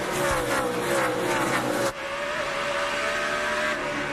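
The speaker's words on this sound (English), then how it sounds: "On board with Wallace, 9-time winner here at Bristol, his final race here" On-board engine roar from a NASCAR race car on the Bristol half-mile oval during the 2006 night race, loud and continuous, with a sharp drop in pitch at a gear change or lift midway, then a steady rising drone.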